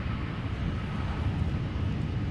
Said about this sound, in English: Embraer arriving from Nuremberg